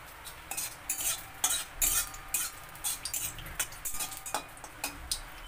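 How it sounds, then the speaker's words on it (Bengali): Two dried red chillies crackling in a little hot oil in a pan on a Bengali home stove, with close, sharp pops and sizzling bursts scattered irregularly over a steady frying hiss, and no one talking. "এই তেলে আমি দুটো শুকনো লঙ্কা একটু ফাটিয়ে দিচ্ছি"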